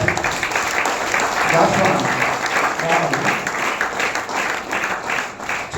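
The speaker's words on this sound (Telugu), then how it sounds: "ఒకసారి దైవజనులకు చప్పట్లు కొట్టండి." A church congregation applauds the pastors as they are called to the stage, sustained clapping throughout with a voice speaking over it.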